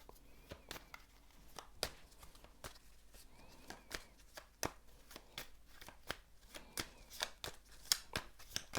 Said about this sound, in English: I'm going to shuffle these Gypsy Oracle cards